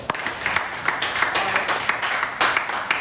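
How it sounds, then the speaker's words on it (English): An audience claps together at a football legacy talk, with quick scattered hand claps over a few seconds and no voices on top. "Everybody give me a hand clap"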